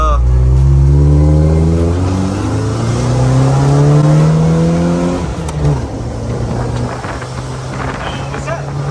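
A C5 Corvette with manual transmission accelerates hard, with a loud close engine roar that climbs through the revs, drops at a gear change and pulls again. Wind rush is heard over the engine, and no one speaks.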